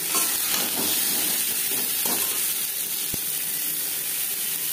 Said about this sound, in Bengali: কুমড়ো আমি সবজি আমি হালকা করেই ভেজে নেব